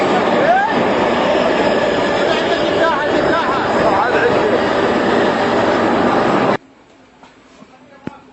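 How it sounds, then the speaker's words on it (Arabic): A train arrives at an Iraqi railway station on a visit to Karbala, with a loud, steady roar and rumble. Voices mix in briefly before the sound cuts off abruptly to near quiet. "اجا القطار. اجا."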